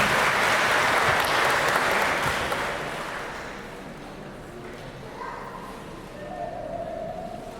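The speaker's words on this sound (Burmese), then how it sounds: "အားလုံးလက်ခုပ်တီးပြီးကြိုဆိုပေးကြရအောင်" Wedding guests applaud loudly in a dense burst of clapping that gradually fades to a softer patter, with faint voices and a thin tone underneath near the end.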